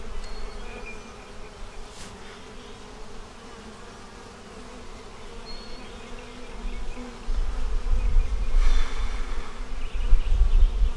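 Honey bees buzz around capped queen cells in an open hive, a dense continuous hum that grows louder and closer toward the end.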